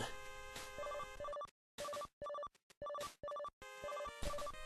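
A chiptune telephone ring from Mega Man 9, with bursts of repeated two-tone electronic trills broken by short silences, set over busy 8-bit game music.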